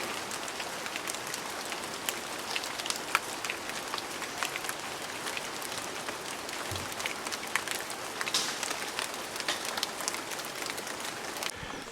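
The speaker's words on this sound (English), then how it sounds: "How pretty it is when the rain begins to stop" Rain easing off at a stone temple near Siem Reap, Cambodia: a steady patter of drops on surfaces with scattered sharper drips, moderately close and continuous, no voices.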